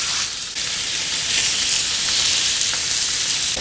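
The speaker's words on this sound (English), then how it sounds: "I'm simply going to add 1 pound of extra lean or lean ground beef into my pan." Lean ground beef sizzles loudly and steadily in a hot steel pan, a continuous close crackling hiss with a brief dip near the start.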